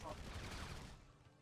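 Rapid bursts of gunfire in GTA 5 blur into a dense, continuous rattle that fades out near the end, with a voice faintly mixed underneath.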